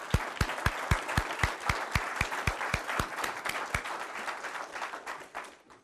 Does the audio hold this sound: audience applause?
yes